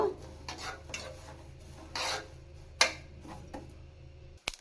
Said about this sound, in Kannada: ಇದನ್ನು ಹುರ್ಕೋಬೇಕು ಚೆನ್ನಾಗಿ ಪಟ ಪಟ ಅಂತ ಸೌಂಡ್ ಬರುತ್ತೆ ಆ ರೀತಿ ಹುರ್ಕೋಬೇಕು